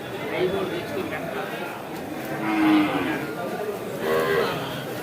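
Ongole breed cow at a cattle market, a couple of low drawn-out moos rising out of busy crowd chatter, with people talking nearby throughout.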